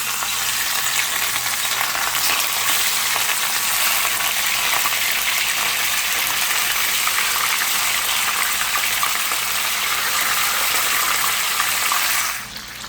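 Fish frying in a pot of hot oil gives a loud, continuous, hissing sizzle that holds steady, then drops off abruptly at the very end.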